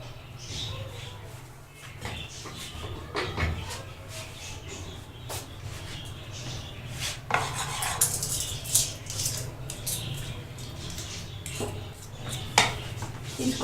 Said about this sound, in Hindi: इसको मिक्स कर लेंगे